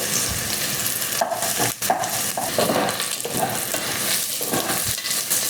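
Carrots frying in oil in a pan for bean soup, a steady close sizzle with repeated scrapes and clinks of a utensil stirring against the pan, no talk.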